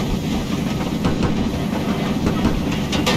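Steam locomotive chuffing from an LNER K1 2-6-0 in Train Simulator Classic, a steady deep, throaty rumble of exhaust beats under continuous running noise, with faint rhythmic clicks and no talking.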